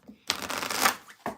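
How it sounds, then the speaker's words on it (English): Tarot cards are shuffled close up in one quick riffling burst, followed by a short soft card tap, with no talking. "I'm going to shuffle, read the chat, and I will move on to Virgo."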